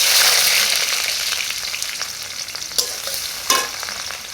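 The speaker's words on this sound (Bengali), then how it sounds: "তেল গরম হয়ে গেছে, পেঁয়াজ কুচি দিয়ে দিব।" Chopped onions hit hot oil for a beef liver curry, a loud, steady hiss of frying that eases slightly over time, marked by a couple of sharp clicks from a stirring spoon.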